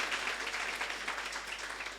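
A studio audience on the French TV singing show Chante ta vie gives a soft, dense round of applause for two singers, with steady clapping that tapers slightly at the end.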